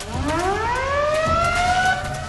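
An old-fashioned hand-cranked alarm siren from the Metal Gear Solid 3 video game winds upward in pitch and holds a loud, wailing tone, with faint rumbling game sounds beneath and no talking.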